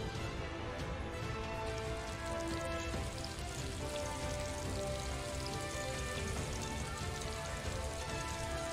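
Food frying on a cooking surface in the Food Wars cooking game, a steady, quiet sizzling hiss with faint crackles running throughout, alongside soft background music tones.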